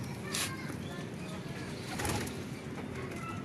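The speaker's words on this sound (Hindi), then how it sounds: "बेसिकली ये हमारे कबूतर लाखे, हम इनको प्यार से रेसर कहते हैं" Racing pigeons kept as pets, cooing softly amid a steady wash of background noise, a few brief calls rising out of it, no talk.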